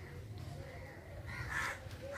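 A crow caws a couple of times outdoors in a village setting, fairly distant and soft, over a low background rumble.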